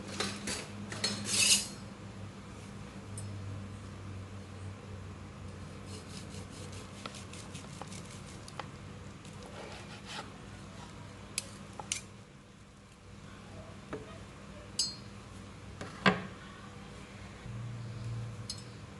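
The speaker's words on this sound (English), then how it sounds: "So I'm just gonna cut the slices that I'm gonna have for dinner real quick." A knife slicing rested cooked meat for a keto dinner, heard as repeated scraping and clinking of the blade against a plate or board, close by and fairly quiet, with a low steady hum underneath.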